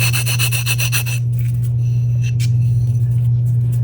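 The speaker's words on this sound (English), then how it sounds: "If you need to sand anything down, just do that really quickly." A nail file rubs quickly back and forth along the edge of a handmade Christmas ornament, a close, steady rasping scrape in short rhythmic strokes that then continues more unevenly under a constant low hum.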